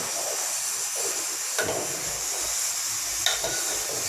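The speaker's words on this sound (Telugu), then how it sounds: "టమాటాలు ఇవన్నీ ఉడికిపోతున్నాయి" A pot of tomatoes simmers for tamarind rasam, giving a steady bubbling hiss with a couple of soft clinks and stirs. Nobody speaks.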